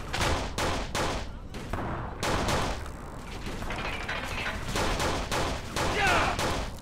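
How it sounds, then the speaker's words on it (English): Rapid bursts of gunfire from a shooter game, Kane & Lynch 2: Dog Days, crackling in dense volleys across the whole stretch, with a voice talking intermittently underneath. "Damn, I'm shooting bad as hell right now"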